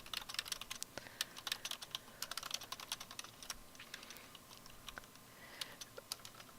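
Steady run of light computer keyboard clicks as a group chat message is typed, quick uneven keystrokes close by with no talking.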